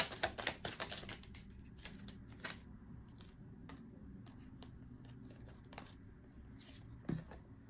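A deck of cards is shuffled up close during a card reading: a quick run of crisp riffling clicks at the start, then sparse, softer taps and flicks over quiet room tone.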